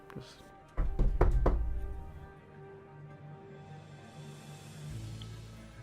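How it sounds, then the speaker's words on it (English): A rapid series of about four loud knocks on a wooden door during a tabletop role-playing game, followed by a low, steady rumble with faint background voices. "And you hear knocking at your door."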